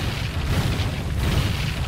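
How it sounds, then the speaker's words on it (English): A deep, rumbling boom from an explosion in the video game Monster Hunter: Iceborne, fought against a Glavenus, rolls on as a dense, sustained low roar that fills the whole two seconds without any speech. "Someone say explosions?"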